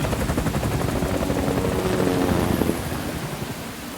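Helicopter in the Metal Gear Solid V: The Phantom Pain video game, a steady loud rotor drone with rhythmic chopping that holds throughout, with rainfall and a brief flurry of gunfire-like bursts in the middle.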